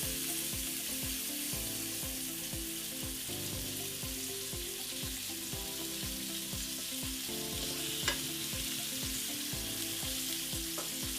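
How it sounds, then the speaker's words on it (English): Oil crackles and sizzles in a pan while cauliflower steaks cook, a steady, fairly quiet hiss with small pops and a soft, low hum underneath. "Little bit of sizzling. That's what you want."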